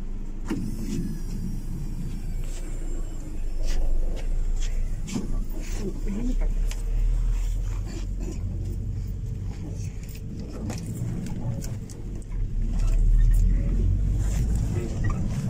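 A Fiat Ducato 244 minibus runs a route through Troitsk, a steady low engine rumble and road noise from inside the cabin, rising briefly as it accelerates, with scattered rattles and clicks.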